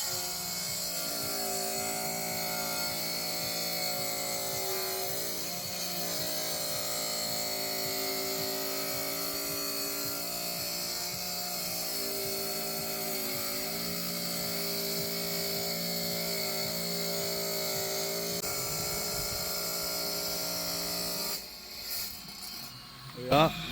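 Bench saw slicing through a porcelain patio slab; a continuous, loud grinding whine holds steady for a long stretch, then breaks off near the end into a few knocks.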